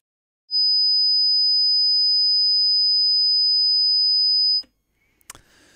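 A steady, pure high-pitched 5000 Hz sine test tone holds for about four seconds, then cuts off, followed by faint handling noise.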